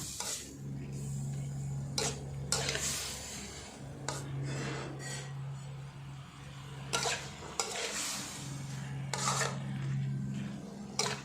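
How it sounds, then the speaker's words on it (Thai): Pork belly is stir-fried in a pan for a spicy Thai curry-style dish, with repeated spatula scrapes and clatters over a soft sizzle and a steady low hum from the stove. "เราก็นำหมู สามชั้นที่เราลวนไว้นะคะมาใส่ลงไปเลย คลุกเคล้าให้เข้ากันนะคะ"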